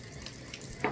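Water pours from a natural source into a jar in a survival setting by a river, a steady close splashing gush with a brighter splash near the end.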